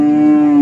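A Limousin bull at a cattle market gives a single loud, close, sustained moo, steady and low-pitched, with no talk over it.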